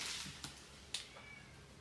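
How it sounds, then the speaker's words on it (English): A cat meows a few times at a moderate distance during the unboxing of a mystery box, brief cries spaced over a couple of seconds above a faint, steady room hiss, with no talking. "I hear a cat."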